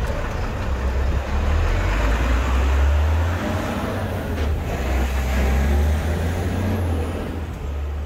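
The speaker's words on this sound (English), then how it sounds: "it's been choked by traffic." Heavy town traffic in Ireland rumbles continuously, with loud truck engines droning low and the sharp hiss of air brakes cutting through, a dense, close roadside wash of vehicles with no voices.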